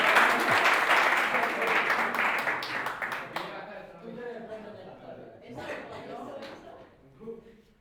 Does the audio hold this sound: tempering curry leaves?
no